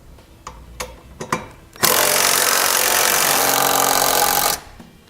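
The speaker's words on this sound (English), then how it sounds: "Now we'll take a 3/4 inch socket and tighten all of our hardware down." Hardware bolts on a Curt trailer hitch receiver for a 2017 vehicle are tightened with a 3/4 inch socket. A few close clacks and ratchet clicks come first, then a loud, steady whirring burst from a power tool lasts about three seconds.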